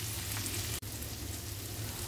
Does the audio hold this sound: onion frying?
yes